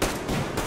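Gunfire in the video game Metro Exodus, a dense burst of broadband shots under a second long, loud and close with no gaps between reports.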